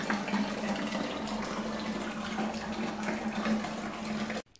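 Classic English ale wort pours and splashes steadily into a fermenter with nearly 23 litres going in. The liquid rushes close and continuous with a low gurgling hum for a few seconds, then stops suddenly. No talking.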